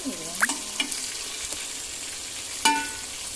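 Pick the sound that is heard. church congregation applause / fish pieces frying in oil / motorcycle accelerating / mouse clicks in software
fish pieces frying in oil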